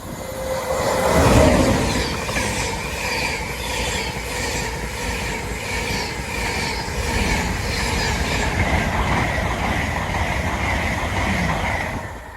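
An Intercity 225 passes at Tuxford with a continuous loud roar of rail traffic, steady rolling wheel noise and a sustained high whine or squeal, swelling briefly near the start.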